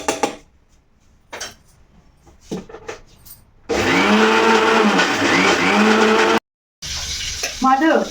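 Mixer grinder blending a coriander, tomato and coconut chutney, a loud steady whirring roar that starts abruptly, stops briefly, then resumes, with people talking before it begins.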